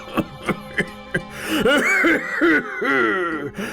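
Several sharp coughs in a row, followed by a raspy, wheezing fit of coughing that trails into strained breaths.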